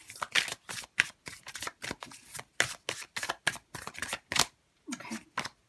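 Tarot cards are shuffled and drawn at close range, with quick rhythmic riffles and snaps in a steady series of bursts and a brief pause near the end.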